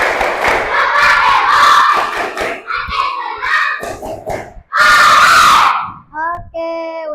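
Schoolchildren in a classroom loudly chant and clap together in the tepuk pulang routine, rhythmic shouted bursts and claps close by, ending with a few sung or held tones.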